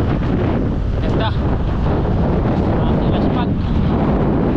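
Strong wind buffeting the microphone on a long bike ride, a loud constant rushing roar with gusty swells and faint voices underneath.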